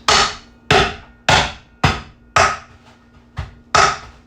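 A hammer strikes ice cubes wrapped for cracking, giving seven sharp, evenly spaced whacks, loud and close, each with a brief crunching decay, with no talk.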